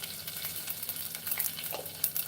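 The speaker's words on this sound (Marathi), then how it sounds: "मोहरी. त्यानंतर टाकणार आहे हे जिरं." Mustard seeds and cumin sizzle and crackle in hot oil close up, a steady busy frying hiss with scattered small pops, during a live Konkan home-style tomato curry cooking session, with no talk.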